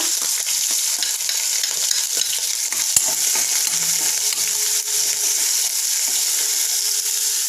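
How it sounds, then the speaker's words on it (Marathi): Chopped onion frying in hot oil with mustard seeds, cumin, ginger-garlic paste and green chillies, a steady close sizzle with occasional stirring scrapes and no talk. "कट केलेला कांदा आपण हे लालसर होईपर्यंत आपण व्यवस्थित फ्राय करून घेऊयात"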